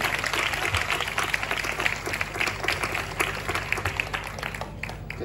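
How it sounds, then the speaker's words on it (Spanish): Audience applause for the Spanish voice actors of Dragon Ball Z Kai at a Manga World event in Cádiz: steady, dense clapping from a crowd, sustained at an even level for several seconds, with a low background hum. "un fuerte aplauso"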